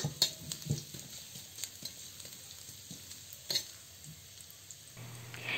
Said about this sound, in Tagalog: At kapag mainit na ang mantika, ilagay na natin ang hiniwang luya.